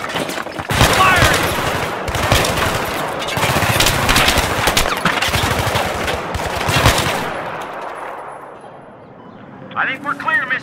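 Sustained machine gun fire in Battlefield 3, loud and close, with dense rapid bursts and booming impacts for about seven seconds before fading into quiet, followed by a brief voice.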